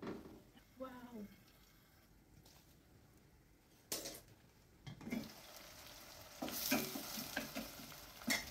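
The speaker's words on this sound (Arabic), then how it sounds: "غادي نشحر البصله ديالي تتشحر مزيان" Onion fries in butter and oil in a pot: a soft sizzle is joined by utensil clanks and grows into a louder, steady frying hiss near the end, close by.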